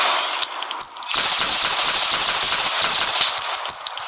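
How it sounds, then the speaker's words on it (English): Rapid automatic fire from an M3 grease gun in a Minecraft Philippine army guns mod. A dense, steady stream of sharp video-game shots rattles on for about four seconds with no talk. "next up, we have the grease gun"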